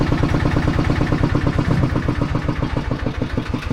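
Car engine running steadily, a loud, close, rhythmic rumble with even pulsing throughout and no talking over it.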